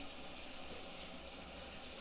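Water runs steadily from a tap to wet hands in a kitchen while baking, a faint, even hiss and splash with no talking.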